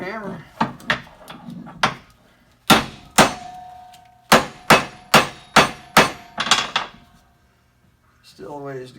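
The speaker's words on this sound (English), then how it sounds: "Get a bigger hammer." Hammer blows ringing on a front axle U-joint, a series of sharp metallic strikes in uneven bursts, some in quick pairs, loud and close with short pauses between groups.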